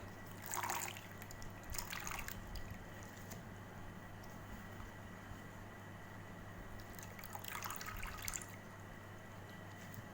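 Water being drained off soaked potatoes, giving a few short splashy trickles and pours that stop and start against a quiet kitchen background, without speech.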